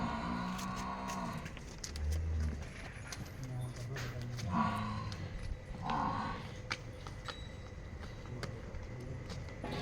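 Cattle at a livestock market selling cows and buffaloes: low moos sound a few times at a distance amid a busy outdoor murmur, with people talking nearby and occasional thuds and knocks.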